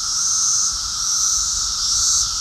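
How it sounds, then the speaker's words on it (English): A dense, unbroken drone of mating cicadas in Columbus fills the air, a loud high buzzing chorus holding steady throughout with no voices. "That noise you're hearing is the mating call of a billion randy cicadas looking for love"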